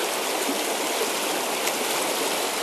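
The Middle Branch river runs past in a steady, loud, broadband rush of flowing water, close by and unbroken, with no voices over it.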